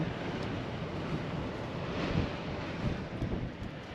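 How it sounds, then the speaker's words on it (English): Steady wind blows outdoors at Bircham Mill in North Norfolk, a continuous broadband rush that swells slightly in the middle, with no voices. "The wind's getting up, Hal."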